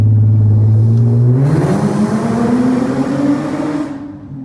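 Infiniti G37 with a VQ V6 and full exhaust system revs up, a loud rising engine drone climbing in pitch over about three seconds and then falling away near the end, with no talk over it.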